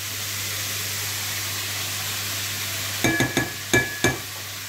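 Steady sizzling of bacon lardons frying in a sauté pan, with a low hum, then a few sharp scraping and clinking stirs near the end.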